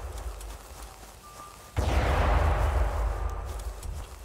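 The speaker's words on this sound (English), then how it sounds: "I'm gonna shoot him for fun." A loud gunshot fired at an iguanodon in the dinosaur hunting game Prehistoric Hunt, a single sharp blast followed by a long, rumbling echoing tail.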